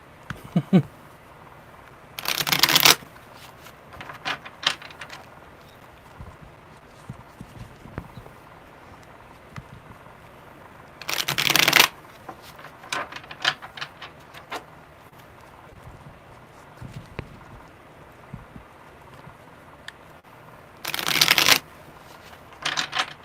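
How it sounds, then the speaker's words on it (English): Tarot cards are shuffled in three crisp riffling bursts spaced several seconds apart, with quiet handling and soft tapping between them. "One more good shuffle."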